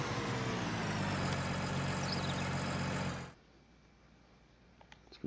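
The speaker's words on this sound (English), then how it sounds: "So what else can we do with a tractor?" A tractor engine in Farming Simulator 19 drones at a steady idle for about three seconds and then cuts out abruptly, leaving near silence with a few faint clicks.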